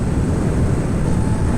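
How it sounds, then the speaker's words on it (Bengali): A fighter jet passes overhead during a monsoon motorbike ride from Kolkata toward Purulia, a deep, steady rumble like distant thunder filling the air, with no talking. "আমি প্রথমে ভাবলাম মেঘ ডাকছে, কিন্তু দেখলাম না, ফাইটার প্লেন যাচ্ছে।"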